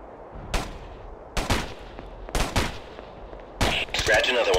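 Gunfire in the video game Ghost Recon: several sharp, loud shots and short bursts in uneven succession, each with a ringing decay, ending in a denser volley with crackling echo.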